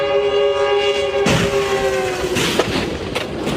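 A train horn blasts loud and sustained as a train approaches a crashed plane on the tracks, a harmonic tone holding for over a second before a rumbling rush cuts in.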